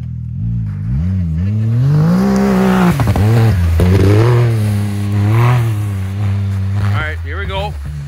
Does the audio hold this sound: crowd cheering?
no